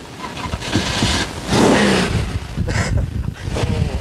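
A car engine revs with the clutch held in, rising and falling in loud close bursts with a strong surge in the middle and a mechanical rattle underneath.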